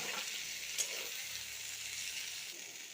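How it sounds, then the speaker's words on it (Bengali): Pointed gourd and potato pieces fry together in a pan, giving a soft, steady sizzle with one small crackle early on and no talking. "দেখো পটল আলু সব একসাথে দিয়ে আমি ভালো করে এটা ভেজে নেব"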